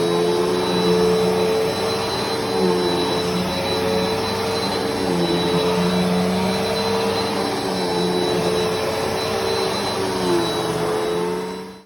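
A Bissell Powerforce Helix Turbo vacuum cleaner runs loud and steady at close range on a rug, its constant whine and roar holding without a break until it cuts off at the end.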